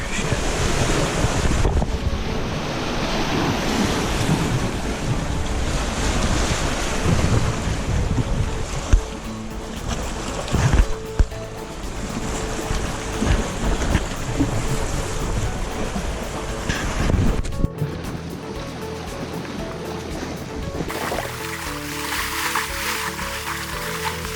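Waves wash along the Lake Superior shoreline in a loud, steady surf with heavy wind buffeting the microphone, ending in a calmer stretch.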